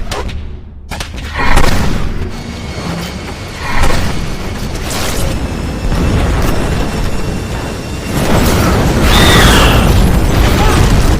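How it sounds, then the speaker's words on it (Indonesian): A deep roaring rumble builds, punctuated by loud booming blasts of an explosion destroying a house and crashing debris, heavy and close. "mereka dikejutkan dengan suara menderu aneh yang diikuti oleh ledakan yang menghancurkan rumah itu"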